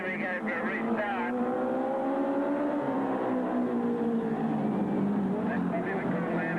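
Speedway race cars roaring at a restart at Gunnedah Speedway, several engines droning and rising in pitch together, loud and continuous, with an announcer talking over them.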